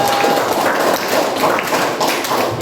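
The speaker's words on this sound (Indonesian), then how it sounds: "Kasih tepuk tangan untuk." A class of students gives a short burst of dense, steady clapping to applaud a classmate, the sound filling the room evenly for a couple of seconds.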